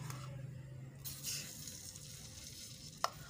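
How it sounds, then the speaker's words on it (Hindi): Vermicelli (seviyan) frying in desi ghee in a kadai, a steady low sizzle with soft stirring scrapes throughout and one brief sharp clink near the end. "इसी देसी घी में हमने सवैयाँ डालनी है।"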